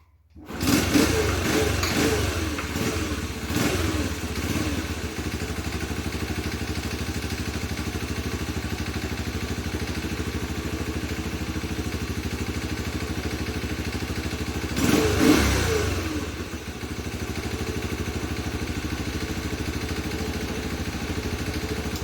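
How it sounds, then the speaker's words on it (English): A Honda CT110 motorcycle with a freshly sorted carburettor and airbox starts up and settles into a steady, close idle with a light mechanical clatter, blipping briefly around the fifteen-second mark before evening out again. "So we'll give it a start up now."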